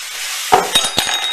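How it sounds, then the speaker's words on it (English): Tamari soy sauce hitting hot sunflower seeds roasting in a pan gives a sudden sizzle over a steady hiss, followed by a few sharp clinks and scrapes as the seeds are stirred. "I'm now going to put some tamari, which is a soy mixture"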